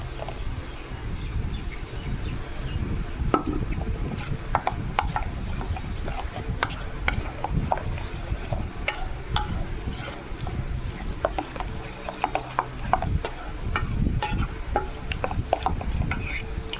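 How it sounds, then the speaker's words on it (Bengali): Spices mixed with tomato puree in a pan, stirred steadily with a utensil, giving a continuous soft scraping and rubbing with small scattered clicks against the pan throughout, no talking. "মশলাগুলোকে ভালো করে মিশিয়ে নিচ্ছি।"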